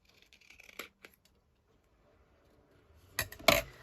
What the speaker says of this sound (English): Let's just trim that in. Trim it across the top.